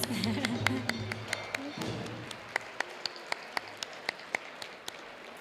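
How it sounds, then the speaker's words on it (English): Guests at a gala event clap, the applause fading out after the first moments and leaving sparse, evenly spaced sharp claps or taps in a quiet room with faint voices. "Can we give him another round of applause?"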